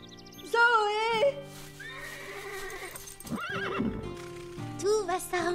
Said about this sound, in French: quand un cheval se met à hennir, c'est juste pour se faire respecter.